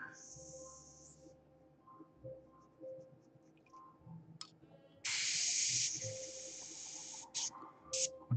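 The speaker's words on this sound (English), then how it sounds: "I can spray a bloody really nice fine line down on the paper" An airbrush sprays paint onto paper in short hissing bursts, with a longer steady spray in the middle, close and fairly faint, with quiet handling noises between bursts.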